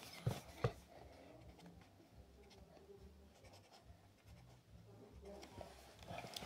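A pen writes by hand on paper with faint scratchy strokes and light taps, close and quiet, and a couple of sharper knocks come near the start.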